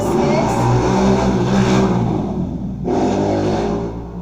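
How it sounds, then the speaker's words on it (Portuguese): Traffic on a nearby avenue makes a loud, steady rumble, with car engines revving and accelerating as vehicles pass close by. "O barulho aí é na avenida, né? Não tem como evitar."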